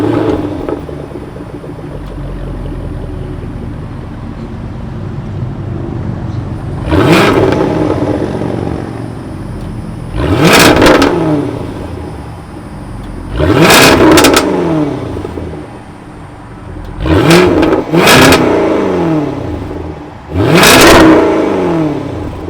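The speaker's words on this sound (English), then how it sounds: "Let's start this 5-liter supercharged V8 up and hear how she sounds." The 5-liter supercharged V8 of a 2022 Jaguar F-Type R fires up and idles with a deep burble, then delivers a series of sharp, loud revs that rise and fall back, heard close with no talking.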